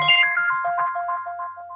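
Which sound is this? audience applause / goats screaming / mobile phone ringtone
mobile phone ringtone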